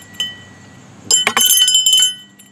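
A small steel air-rifle target bell hung on a string rings out with a sharp, bright clang after a faint tick, then shimmers and rattles for about a second before cutting off.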